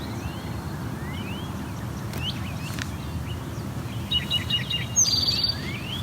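Field sparrows singing in an open, brushy field, a few faint high tweets and chirps over a steady low rumble of background noise, with a louder burst of calls near the end.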